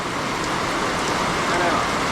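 Heavy rain in Kerala gives a loud, steady, close hiss of water pouring down without a break over a couple of seconds.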